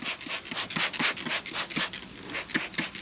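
Wiping a truck's gouged paint with Speed Shine detailer and a rag produces repeated rhythmic rubbing strokes, close and fairly quiet, with no talking.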